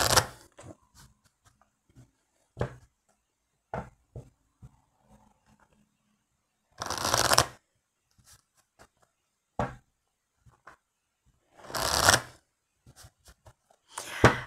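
Oracle cards being shuffled, several short papery riffling bursts spaced apart with faint soft handling noises between them, close and moderately loud.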